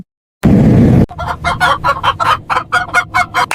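After a short loud noise burst, a chicken clucks repeatedly in a quick, steady rhythm aboard a plane, about a dozen sharp clucks, close and clear.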